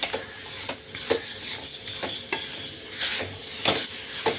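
Jaggery melts in a hot kadhai while a spoon scrapes and stirs it, giving repeated rhythmic scraping strokes over a soft sizzle, close and clear, with no voices.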